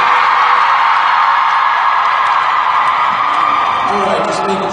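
A conference audience at a Pittcon 2016 panel Q&A erupts in loud, sustained screaming and cheering, a dense wall of crowd yells holding steady for several seconds before tapering slightly at the end.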